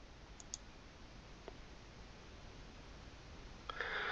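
Computer mouse clicks sound as a few sharp, faint clicks scattered over a quiet background while a command prompt is opened, with a louder burst of clicking near the end.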